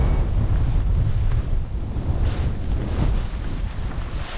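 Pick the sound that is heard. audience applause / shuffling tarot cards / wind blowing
wind blowing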